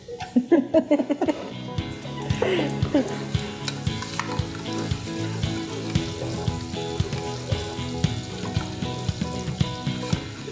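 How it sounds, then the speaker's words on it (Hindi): Brown fried onions and raw onions go into a sizzling chicken gravy with a crackling burst, followed by steady frying and repeated scraping and stirring strokes of a spoon in a pan, close and busy throughout. "उसकी ग्रेवी बना रहा हूँ मैं। ये दोनों प्याज डालूंगा मैं, ब्राउन और ये वाली।"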